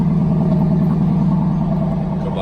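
A Ford Shelby GT500 with a 5-liter V8 running close by, giving a steady, loud, throbbing low drone that holds fairly even without sharp rev climbs.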